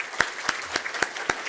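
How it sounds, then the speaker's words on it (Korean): A church congregation gives a short round of applause during a Sunday service, the clapping strong and evenly textured with a few sharper claps standing out, close and lively. "박수하겠습니다."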